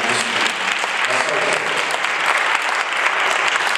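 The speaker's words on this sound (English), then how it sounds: "Go ahead, clap your hands for the second day of Black History Month." Audience applause in honor of the second day of Black History Month, a dense, steady wash of many hands clapping close by for several seconds with no break.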